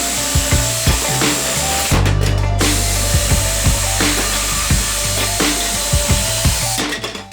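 A power saw cuts loudly and steadily through thick combined wood boards for a DIY Murphy bed, a continuous close-up whine with repeated knocks and rattles as the blade works through the stock.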